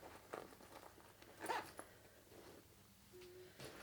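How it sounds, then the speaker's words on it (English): A zipper on a handmade drawstring backpack with a top zipper closure being pulled shut, a quiet, brief raspy run of zipping heard alone in a hushed room. "You can close the zipper."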